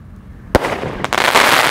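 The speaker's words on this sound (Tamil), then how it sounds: "எல்லாமே வந்து சூப்பராக தான் வெடிச்சிட்ருக்கு." Sivakasi firecrackers of the Ravindra's brand burst outdoors: one sharp bang, a second crack about half a second later, then a dense crackling rattle of small explosions that continues loudly to the end.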